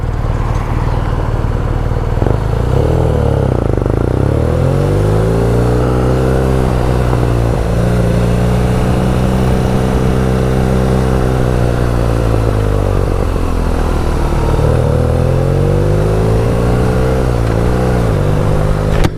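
BMW Urban G/S motorcycle on knobbly tyres riding on faster roads: a loud, close engine drone rising and falling through gear changes and acceleration, with steady wind noise throughout.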